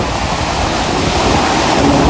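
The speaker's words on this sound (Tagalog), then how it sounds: "delikado rin sa mga bata yung alon no, malakas." Strong sea waves break loudly on a provincial beach shore, forming a dense, close, roaring wash of surf with wind noise, with no voices.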